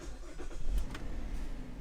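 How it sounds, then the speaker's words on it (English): A GMC, Chevy or Buick car engine starts with a newly programmed key and settles into a steady idle close by, with a low rumble throughout and a brief surge early on. "Voila, engine fires right up."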